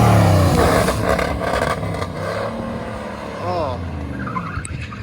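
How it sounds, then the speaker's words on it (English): A Camaro does a burnout on an open pad, its tires squealing and skidding over a roaring engine. A voice briefly exclaims during the run. "World's fastest burnout."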